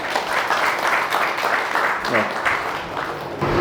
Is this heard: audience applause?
yes